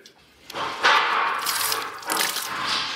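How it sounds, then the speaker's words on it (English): A small water-cooling pump for a CNC spindle switches on and pushes water through its tubes, giving a close, steady splashing and gurgling rush with surges of flow. "This little pump pumps cool water through the spindle, through this and that tube to keep the spindle cool."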